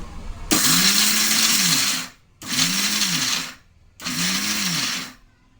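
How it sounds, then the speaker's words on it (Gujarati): A kitchen mixer grinder coarsely grinds whole spices and rice flakes for stuffed chilli filling, whirring loudly in three bursts of about one and a half seconds each, separated by short pauses. No one speaks. "બધા મસાલાનો આપણે અધકચરો પાવડર તૈયાર કરશું અધકચરા પીસવાના છે"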